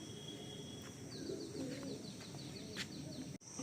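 Pigeons coo steadily in a loft in South Kolkata surrounded by greenery and wetland, a continuous low murmur from several birds with faint chirps over it.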